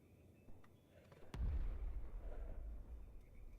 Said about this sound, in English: I just heard an explosion in the distance.